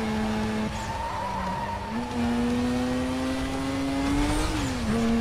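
A car in Need for Speed Most Wanted 2005 drives with a sustained engine drone that rises through gears, tires skidding and squealing through corners, loud and continuous with no voices.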